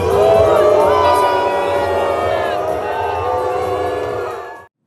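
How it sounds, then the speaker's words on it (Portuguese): A large crowd at an Olympics ceremony boos Israel's delegation, a sustained loud roar of voices with whistles and jeers that carries on for several seconds before cutting off. "sendo recebido por uma verdadeira chuva de vaias"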